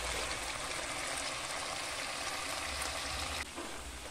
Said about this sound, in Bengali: এখন অ্যাড করে দেব গরম জল।